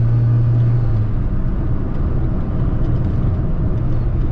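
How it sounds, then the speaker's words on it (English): A 1985 Saab 900S engine hums and rumbles steadily from inside the moving car, a constant low drone with no talking. "Engine sounds great in this car."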